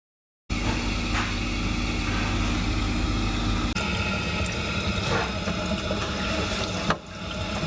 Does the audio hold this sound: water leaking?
yes